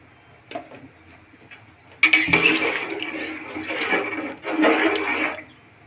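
Four and a half glasses of water poured over three glasses of rice in a pot for aloo pulao: a quiet clink, then a few seconds of steady splashing, gushing pour with a short pause partway.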